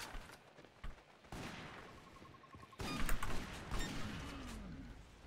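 Gunfire in the video game Toxikk: a busy run of shots and bursts that gets louder and denser in the second half, mixed with other game effects and no talking.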